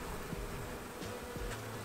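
Honey bees buzz around an open hive during an inspection, a quiet, continuous low drone with wavering pitch from many insects, close by and without talk.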